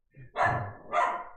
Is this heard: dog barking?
yes